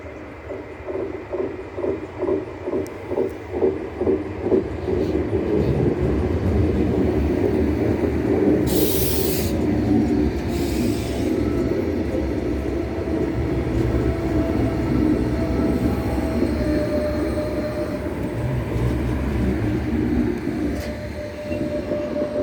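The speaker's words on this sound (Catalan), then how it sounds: "Arribada del primer tren que finalitza el seu recorregut en aquesta estació." The first train reaches Ribes de Freser station. Rhythmic wheel clatter over rail joints starts early, then settles into a loud, continuous rumble and screech as the train rolls in and slows at the platform, with a couple of short hissing bursts in the middle.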